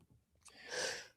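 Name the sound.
sneeze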